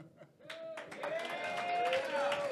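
A live debate audience claps and cheers together, with whoops and whistles rising over the applause, building steadily and staying loud throughout.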